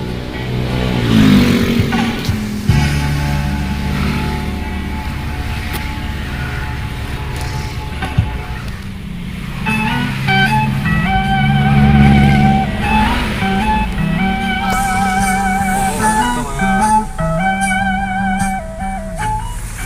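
Traffic jam with cars and motorcycles, engines idling and revving close by in overlapping waves, with occasional horn-like tones and a rising rev toward the end, continuous and loud.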